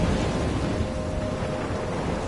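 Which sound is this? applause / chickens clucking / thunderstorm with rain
thunderstorm with rain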